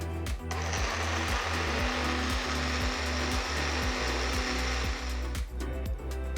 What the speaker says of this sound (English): blend everything till it's all well combined.